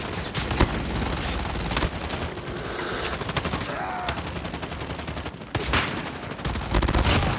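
Dense, continuous automatic gunfire and scattered shots from COD Mobile multiplayer, loud and sustained throughout with brief breaks, with game voice callouts mixed in.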